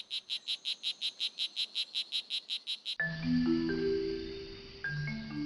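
Strawberry poison dart frogs in a Costa Rican jungle give a rapid, evenly pulsed series of about fifteen high chirping calls, then stop, followed by other unrelated tonal sounds.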